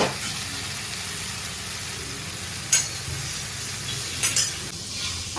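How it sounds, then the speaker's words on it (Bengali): Greens (shak) fry in hot oil, a steady loud broadband sizzle throughout, with a couple of brief sharper clinks from stirring. "বন্ধুরা দেখো, আমার শাক ভাজা হয়ে গেছে।"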